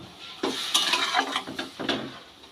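A spoon stirs sugar syrup for chalta pickle in a pot, a few close metallic clinks and scrapes against the pot in an irregular rhythm, with no talk.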